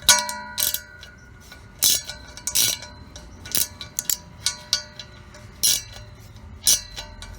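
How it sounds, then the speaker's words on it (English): A 14mm wrench tightening handrail bolts, with a series of sharp metallic clicks and clinks in an uneven rhythm, close and crisp against a quiet background. "tighten them up with a 14mm wrench"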